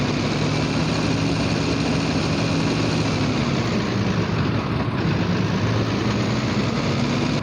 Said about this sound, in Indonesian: Tarik hoist lever pada posisi race dan naikkan putaran engine dengan perlahan sampai